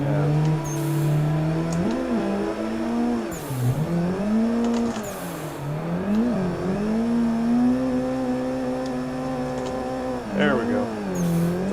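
Car engine droning and revving with shifting pitch as it slides through a drift in the racing game Assetto Corsa, steady and loud throughout with brief tire squeals, a voice talking over it.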